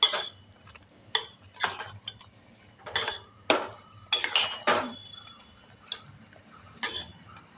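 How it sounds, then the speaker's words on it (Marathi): Coconut rice being stirred and sautéed in a pan: a series of distinct, close scraping and clinking strokes from a spoon against metal, roughly one every half to one second, with no talking. "जरा आपण परतून घेऊया."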